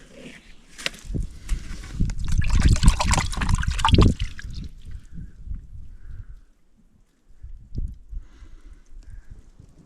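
Clean water trickles and splashes from a sewer drain pipe of an underground house, a wet, uneven gurgle that swells for a few seconds, then thins to faint dribbles, pauses briefly and resumes softly.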